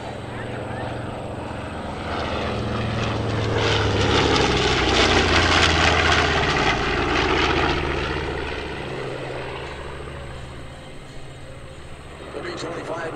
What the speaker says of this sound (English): Here comes the pass. Watch for the open bomb bays on the bottom of the airplane.